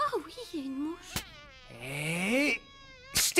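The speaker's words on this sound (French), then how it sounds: "Oh oui, il y a une mouche." A cartoon fly buzzes in an animated series, a wavering whine that rises and falls for about a second between animated voices and sharp hits.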